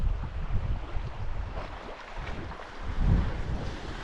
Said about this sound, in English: There'll be lulls in the sound as the waves die away, and then a new set will come in and it'll pick up again.